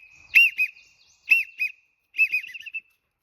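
A wigeon duck call is blown in three short whistled bursts, each a bright, high two-note wheezy whistle, close and clear against silence, imitating the social whistle of wigeon.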